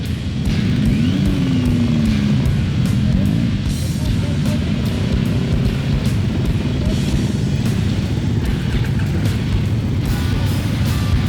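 Dirt bike engines idle and rumble steadily, loud and close, as riders prepare to set off on a rally, with voices talking over the continuous engine noise.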